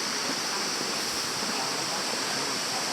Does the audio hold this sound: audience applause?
no